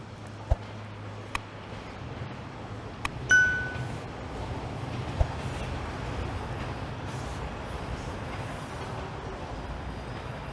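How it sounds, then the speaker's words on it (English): An eastbound Toronto Line 2 subway train rolls into Victoria Park station with a steady, broad rumble that swells slightly, joined by a few sharp metallic clinks and a brief tone, with no talking. "That's an eastbound Line 2 train rolling into Victoria Park."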